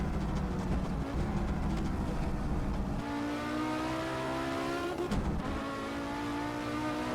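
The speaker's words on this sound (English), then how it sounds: "We're just banging the rev limiter, but again, have no control of that" An Audi Quattro S1 in the Assetto Corsa racing game, engine held at the rev limiter on the Highland track, a loud sustained buzzing drone that stutters and shifts pitch slightly, with no talk over it.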